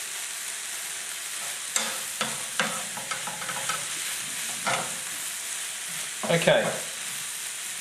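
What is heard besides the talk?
onions and bacon frying in a pan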